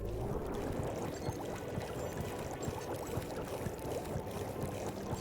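A video game submarine, from Spyro 2: Ripto's Rage Reignited, glides through water with a soft, continuous churning and gurgling rush, low and steady, with no speech.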